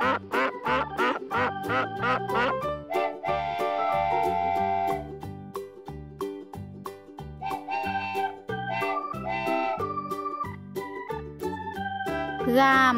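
A duck quacks in short repeated bursts over a bright, steady children's music track with jingly tones.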